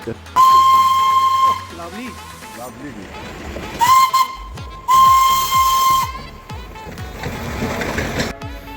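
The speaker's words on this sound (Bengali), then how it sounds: "তো টয় ট্রেন এখান দিয়েই যাচ্ছে" A Darjeeling toy train's steam whistle blows loud and near in several long, steady shrieks, with hissing steam and rail rumble passing between and after the blasts; people talk faintly in the background.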